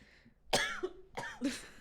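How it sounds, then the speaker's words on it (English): A lingering cough, left over after COVID: two or three harsh, close coughing bursts in quick succession, loud against an otherwise quiet room. "I still have a COVID cough right now."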